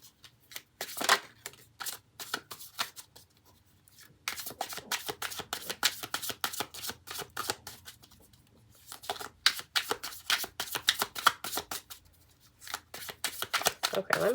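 A deck of playing cards is shuffled in repeated riffling bursts, close and crisp, with brief pauses between rounds and some quiet voice in the background.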